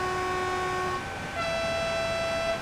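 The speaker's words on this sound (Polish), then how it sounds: "Ma niskie dźwięki, wysokie dźwięki syreny" Horn of a DB BR 147 electric locomotive in Train Sim World 6, a loud, steady two-tone blast that shifts from one pitch to another partway through, standing alone without talk.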